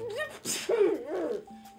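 A single sharp sneeze bursts out at close range, a quick gasp followed by an explosive hiss, amid brief voiced sounds in a domestic comedy scene.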